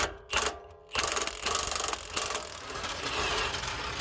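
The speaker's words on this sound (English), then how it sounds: "Hold the ratchet." A ratchet works loose a rear control arm bolt on a stanced Nissan 350Z, giving a run of quick mechanical clicks and rasps close by, broken by brief pauses.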